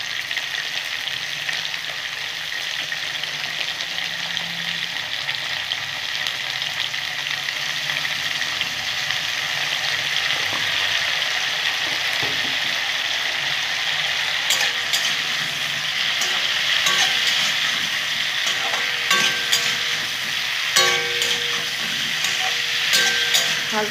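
Cauliflower florets seasoned with salt and turmeric fry in a pan with a steady, close sizzle and hiss that holds for the whole stretch. Louder stirring scrapes break through now and then, and no one speaks.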